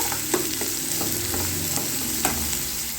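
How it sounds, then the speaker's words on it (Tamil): Onions with ginger-garlic paste sauté in hot oil for a Tamil drumstick and chana dal kurma kulambu, a steady close sizzle broken by a few soft scrapes of a stirring spoon, with no voices. "அந்த வெங்காயம் வந்து பார்த்திங்கன்னா ஒரு பொன்னிறமாக வரணும் அந்த அளவுக்கு வதக்கி எடுத்துக்கலாம்"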